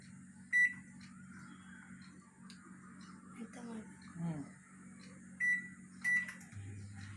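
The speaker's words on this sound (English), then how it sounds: "I'm preheating the oven now." An oven being preheated gives a few short electronic beeps, spaced apart over a low steady hum, quiet and close by.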